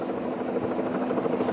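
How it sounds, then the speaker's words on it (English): A news helicopter flies overhead, its rotor giving a loud, steady rapid chop that fills the whole stretch without pause. "We're looking at this from Chopper 5."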